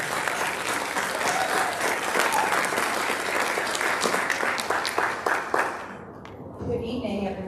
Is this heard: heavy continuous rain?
no